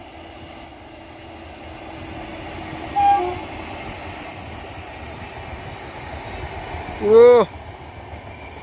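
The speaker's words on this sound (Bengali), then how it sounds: "Azimganj Murshidabad link line Nasipur bridge পার করে এই মুহূর্তে সাইরাং ছুটে যাচ্ছে কলকাতার দিকে" The Sairang–Kolkata Express runs past after crossing the Nasipur bridge on the Azimganj–Murshidabad link line, a steady distant rumble topped by a brief horn blast and then a louder, longer horn call; a voice briefly exclaims.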